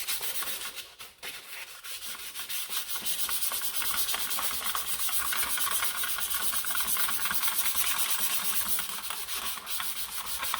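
Sandpaper rubbed by hand strips paint from a surface, a steady, close, continuous scratchy rasping that runs almost without pause and has no talk over it.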